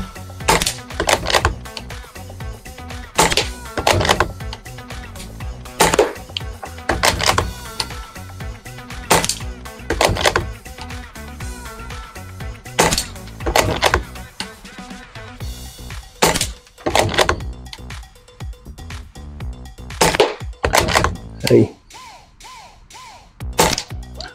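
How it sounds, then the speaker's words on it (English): Sharp pellet shots from a CO2-powered air gun striking a target outdoors, a long irregular series of loud cracks and impacts with short gaps, no talking. "Now we're just going to shoot, since the gun has CO2 on it."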